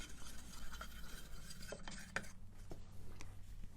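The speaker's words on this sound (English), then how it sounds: "So first thing I do is stir it up like you would with any stain," A stick stirs a can of wood stain, giving light scraping and knocking against the metal can. The scraping comes in irregular strokes with a few sharper taps, close and quiet over a low background hum.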